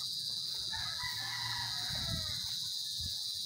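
Hens cluck and squawk close by in a small backyard farm, over a steady high-pitched hiss of insects or ambient noise.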